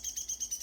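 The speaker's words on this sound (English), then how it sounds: "That bird does not care for us here, I think." A bird chirps in a rapid series of six high, evenly spaced tweets near cattail vegetation on a lakeside trail, faint against quiet background.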